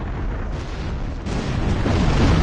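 Explosions boom in The Thing Remaster, a dense continuous rumbling roar that grows louder toward the end.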